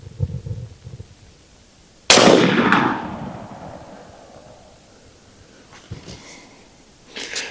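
Single shot from an Element Max .50 caliber PCP airgun, one sharp loud crack with a long decaying echo outdoors, preceded by quiet rustling and followed by faint handling clicks.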